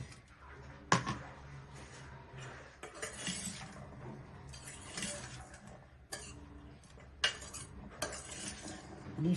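A spoon scrapes and clinks against a bowl while a mixed bean salad is stirred, giving a continuous close rustle with several sharper metallic knocks spaced through it.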